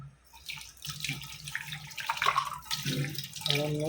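Water runs and splashes close by as a tea pot is rinsed and washed, a short burst of running and sloshing water that grows louder toward the end.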